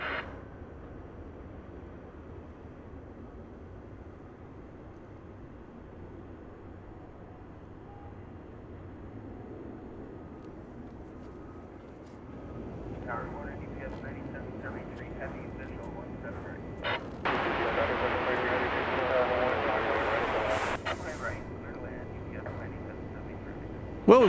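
A UPS cargo plane arriving at DFW Airport rumbles low and distant, its engine roar rising gradually and swelling louder near the end, with a voice talking over it.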